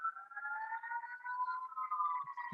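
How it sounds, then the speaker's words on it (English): Fire engine sirens from a nearby fire station wail steadily for the whole stretch, a loud, continuous rising and falling tone with no talking over it. "sorry about the sirens"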